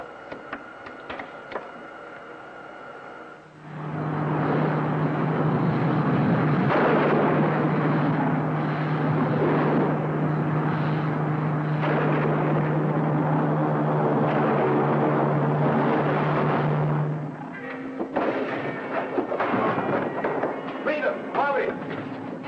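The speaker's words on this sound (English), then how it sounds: "Full rocket power, Winky. All rockets, sir." A sci-fi serial spaceship fires its rockets at full power, a loud sustained roaring blast with a steady low hum that holds for about fourteen seconds, then drops away under faint voices.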